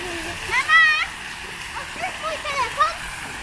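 Water splashing in a city fountain by the Łyna river in Olsztyn, Poland, a steady outdoor wash of spray heard under children's voices and chatter nearby.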